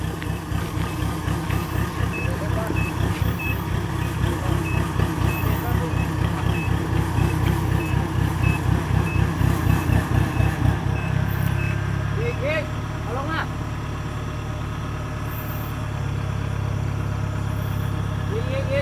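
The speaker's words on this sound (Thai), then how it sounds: "รถอุ้มครับ DC 70ถ่ายข้าวนะครับ" A Kubota DC70G+ combine harvester unloads rice with a loud, steady pulsing engine drone and a rhythmic mechanical chug. The rhythm eases and shifts about midway, and a few faint higher tones pass over it.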